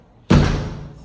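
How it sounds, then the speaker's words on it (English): A metal front door on a house swings shut with one sharp, loud impact that rings and decays over a fraction of a second, close by and with no voices. "You do have this metal door here on the front"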